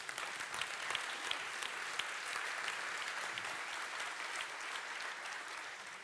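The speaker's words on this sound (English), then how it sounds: "Let's give them a round of applause." Steady, sustained audience applause for a panel at a virtual worlds and metaverse conference in Paris, a dense even wash of claps heard from a distance and fairly faint, with no talking.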